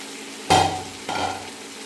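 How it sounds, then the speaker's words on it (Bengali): Fried prawns drop into a sizzling pan of cooked masala in two loud bursts of hiss and spatter, each fading back to a quieter simmer. "এখন আমি এর মধ্যে দিয়ে দেব আমার ভেজে রাখা চিংড়ি মাছগুলো।"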